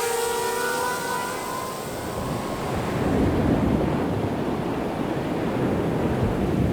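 Ocean surf rolls in at Uluwatu Beach in Bali, a famous surfing spot, as a broad, steady wash of breaking waves with a gust of wind over the microphone and a swell in loudness midway through.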